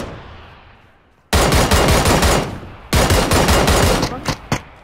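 Battle royale video game gunfire starts after a quiet stretch, with two long runs of loud, rapid automatic shots close by, then a few separate final cracks.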